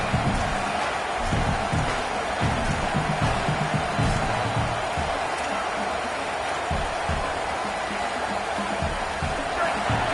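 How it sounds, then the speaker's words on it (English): A large stadium crowd at a college football game, UNC against Mississippi State, roaring steadily and loudly throughout with a constant wash of cheering and noise. "This crowd going to try to make life miserable for these guys"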